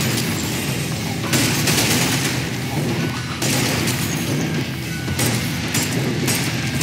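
Rapid, dense gunfire from a newly acquired gun in the video game Ultrakill, a continuous loud barrage of shots with booming impacts, heard alone without talk.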